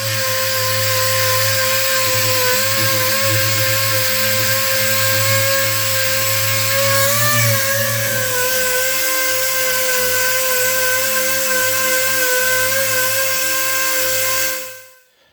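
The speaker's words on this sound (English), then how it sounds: "So I got all that sanded." A power sander works over a car body panel, giving a steady, loud whirring drone with a sustained pitch that shifts slightly midway before cutting off near the end.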